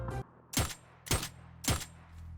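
In PUBG, a battle-royale game, three sharp gunshots crack at even half-second intervals after an opening burst, loud and close with quiet gaps between them.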